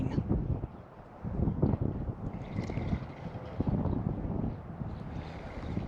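Strong, gusty wind buffets the microphone outdoors during a fishing trip, producing a loud, uneven low rumble that surges and eases throughout.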